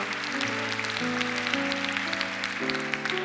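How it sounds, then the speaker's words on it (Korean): A church congregation at a Sunday service claps together in steady, dense applause over sustained keyboard or organ chords. "십자가에서 마귀를 멸하시고 승리하신 그 존귀하신 우리 주님께 영광의 박수를 드리겠습니다"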